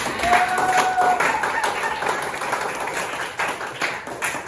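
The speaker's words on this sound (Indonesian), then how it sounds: "Tepuk tangan dulu buat diri kalian." Students in a classroom clap together after their presentations, a lively crowd of hands at close range with a faint tone and some chatter underneath.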